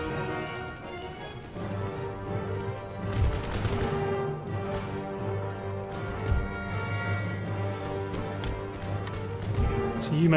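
Musket volleys in Empire Total War as line infantry fire on charging horsemen, scattered shots and crackling gunfire over a dense battlefield din of marching, hooves and game music, with voices beneath.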